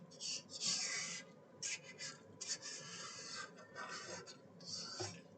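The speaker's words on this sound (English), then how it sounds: "I'm going to take a spatula and I'm going to scrape down the bowl" A spatula scrapes down the sides of a KitchenAid mixing bowl holding chocolate chip cookie dough, giving short, soft rasping strokes in an irregular rhythm, close and quiet.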